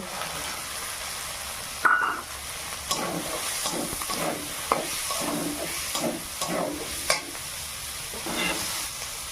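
Shelled green peas tipped into a pan of potato curry with softened tomato and a little salt, setting off a steady sizzle with repeated scraping stirs and a sharp clatter near the start, close and fairly loud, no talking.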